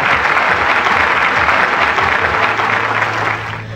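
Studio audience applause on a Vietnamese TV game show, a loud, dense burst of clapping that holds steady and then starts to fade near the end.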